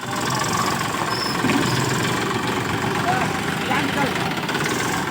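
A tractor engine runs steadily at close range, a continuous low rumbling drone with a mechanical knock, with voices talking faintly in the background.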